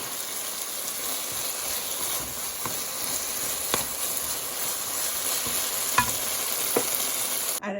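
Chicken in teriyaki sauce fries in a pan with a steady, close sizzle and occasional sharp pops and spatters, with no talking.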